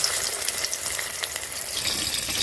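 Semolina-coated fish fries in hot oil, a dense, bright crackling sizzle that holds steady and close throughout the short stretch, with no talking.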